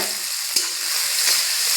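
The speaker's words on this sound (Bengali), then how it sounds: "এবার পেঁয়াজটাকে খুব ভালোভাবে তেলের মধ্যে ভেজে নেব" Finely chopped onions with a pinch of salt fry in hot oil, a close, steady hiss of sizzling with a couple of brief spatula scrapes as they are stirred.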